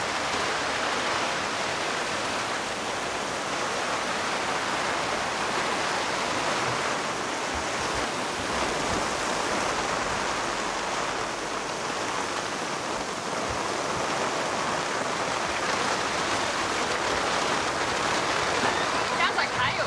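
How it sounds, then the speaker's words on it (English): Heavy rain pounds a sailboat in the Bahamas with a dense, steady hiss and patter like hail, loud and constant throughout. "Sounds like hail."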